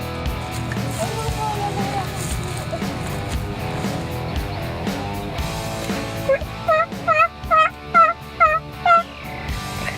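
A person imitates a turkey hen by mouth during a turkey hunt, giving a quick run of about eight sharp, rhythmic yelps over a steady background hum.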